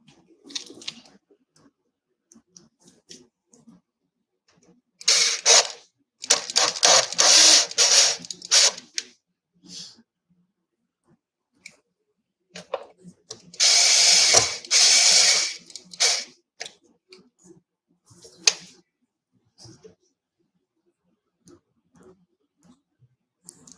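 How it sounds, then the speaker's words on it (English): A cordless screw gun runs in two bursts of whirring power-tool noise, each a few seconds long. Faint clicks and handling sounds fall between the bursts, and no one speaks. "My screw gun. There it is."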